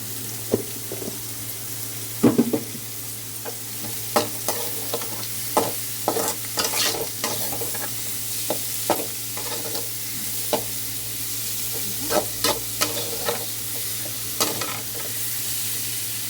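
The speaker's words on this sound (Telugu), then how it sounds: "ఉల్లిపాయలు బాగా వేగాలి ఫ్రెండ్స్. బాగా వేగనిద్దాం ఆనియన్స్." Onions fry in a pan under a steady sizzle, with a spatula scraping and stirring in repeated clicks and knocks, close and fairly loud, over a low background hum.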